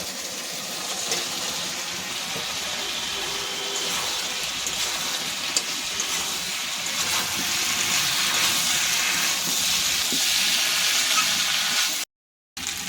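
Chicken pieces tipped into a hot pan of sauce for chili chicken, giving a steady, loud hiss and sizzle that runs almost unbroken throughout, with a short dropout near the end.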